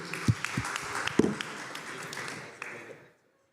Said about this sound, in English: And yeah, round of applause